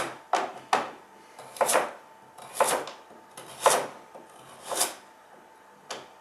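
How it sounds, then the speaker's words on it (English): Knife slicing through a carrot on a cutting board, a series of about eight crisp, dry cuts at an uneven rhythm, close and fairly quiet with near silence between strokes. "So we're just going to slice the carrot"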